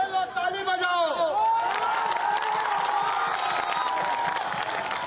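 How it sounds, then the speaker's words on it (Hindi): A crowd at a Bihar political event claps and cheers loudly, with whoops and shouts, while a voice carries over the top at the start before sustained applause takes over. "ताली बजाओ।"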